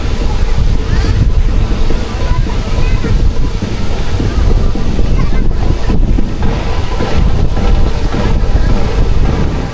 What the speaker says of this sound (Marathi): मस्त थंड वारं आहे